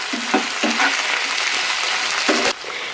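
Ginger, garlic and green chili sauté in hot oil for chilli chicken. A steady, close sizzle fills the pan, broken by a few scraping spoon strokes as the mixture is stirred.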